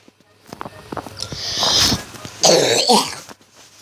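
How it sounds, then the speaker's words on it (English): Someone coughs in a rough, hacking fit, several bursts close to the mic with short gaps between them, with a throat-clearing quality, heard over a quiet background during a Bee Swarm Simulator gaming session. "Sorry, cough attack."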